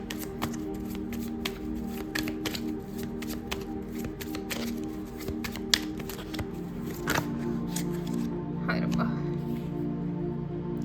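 Tarot cards are shuffled and drawn by hand in a steady stream of soft flicks and taps, close and quiet, over a low constant hum, ending in a few lighter card placements.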